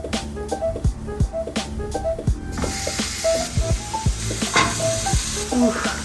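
Bacon frying in a pan, a dense bright sizzle that swells partway through and then holds steady, up close, with clinks and scrapes of a utensil and brief faint vocal sounds.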